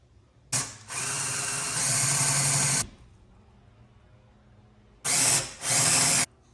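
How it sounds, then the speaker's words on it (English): A power drill with a 3/16 bit drills holes in a Toyota Tacoma, whining loudly for about two seconds, stopping, then running again in two short bursts, with quiet pauses between. "get our first two holes drilled"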